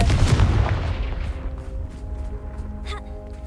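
A Confringo blasting spell in the video game Hogwarts Legacy goes off as a heavy, booming explosion that hits hard at once, then rumbles and fades with some light crackling debris.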